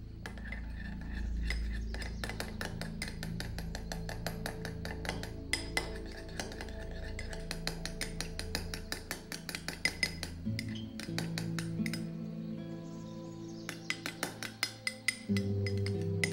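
A spoon stirs eye gel and castor oil, half a teaspoon of each, in a small dish, giving rapid, repeated light clinks and scrapes against the dish, close and continuous, with no talking.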